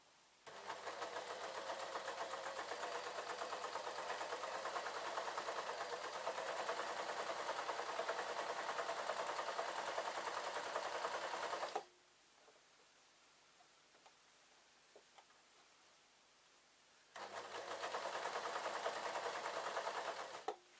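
A domestic sewing machine stitching a men's t-shirt runs in a steady, fast whirring drone for about twelve seconds, stops for a quiet pause, then starts up again at the same even pace, close and clear.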